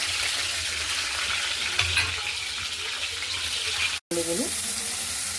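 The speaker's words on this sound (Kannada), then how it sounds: "ಈರುಳ್ಳಿ ಹಾಕ್ಕೊಂಡು ಸ್ವಲ್ಪ ಫ್ರೈ ಮಾಡ್ಕೊಳ್ತಾ ಇದ್ದೀನಿ." Onions sizzle steadily in a hot pan, a close continuous frying hiss with a brief cut near the end and faint stirring sounds.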